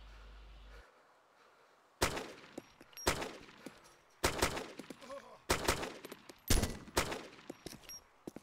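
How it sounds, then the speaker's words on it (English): Gunfire in the video game DayZ, on the Taviana map: a series of about six sharp, loud single shots spaced roughly a second apart, each with a short echoing tail against a quiet background. "I can hear you shooting."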